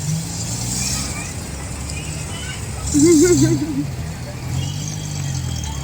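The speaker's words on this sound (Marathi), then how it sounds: "इकडे मध्येच गाडी आलेली आहे" A car pulls in and arrives nearby, its engine swelling briefly to a louder passing rumble over steady road and crowd noise, then settling back.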